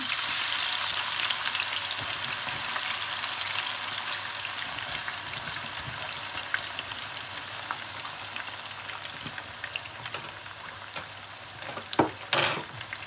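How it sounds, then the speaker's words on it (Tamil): Steady sizzling and crackling of onions frying in hot oil for dried tuna coconut sambal, continuous and close, with a few sharper pops and stirring clatters near the end. "எண்ணெய் கொதிச்சுட்டு நான் அளவான அளவாக இந்த நெக்கில் வெங்காயத்தை போட்டு கொதிக்கிறேன்"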